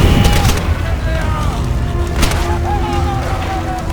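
A grenade goes off in the World War II shooter Call of Duty: World at War, Veteran campaign: loud booming blasts, one at the start and another midway, ringing over continuous battlefield gunfire and rumble.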